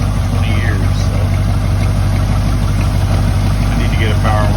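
A 1973 Ford F-100 pickup with a 351 Windsor V8 idles steadily, with a continuous low rumble loud and close, with faint higher clatter on top.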